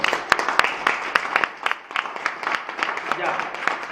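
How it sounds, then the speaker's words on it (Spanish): A church congregation claps for God during a sermon, sharp individual claps ringing out at an uneven pace amid a busy wash of voices and crowd noise. "Un aplauso para Dios."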